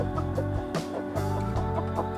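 Chickens clucking in a rural Appalachian Mountains yard, a close, busy run of overlapping clucks and squawks, loud and continuous, with no talking.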